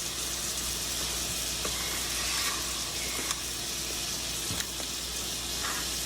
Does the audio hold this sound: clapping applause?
no